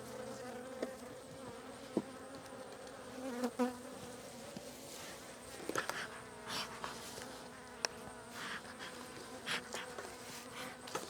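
Honeybees buzzing around hive boxes while colonies are consolidated for winter, a dense continuous drone with individual bees zipping close past, plus occasional soft knocks and clicks of hive handling.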